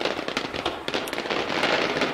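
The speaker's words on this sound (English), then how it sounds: "A firework? Oh, hell yeah," Fireworks burst in Generation Zero, a dense run of crackling pops and sharp bangs filling the whole stretch, steady and fairly loud with no talk over it.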